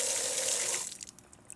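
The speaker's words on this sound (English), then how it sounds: "so with the water back on, we'll go ahead and turn things on" Water runs steadily from an outdoor faucet just after a leak repair, a broad hiss that thins to a weaker trickle and scattered drips partway through.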